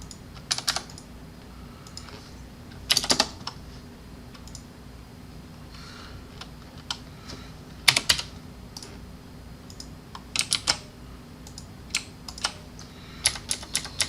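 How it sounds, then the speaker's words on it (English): Computer keyboard arrow keys are tapped during Revit modelling work, producing scattered light clicks, some single and some in quick clusters, irregularly spaced over a steady low room hum with no talking. "I'm just using the arrow keys to kind of bump them over a bit"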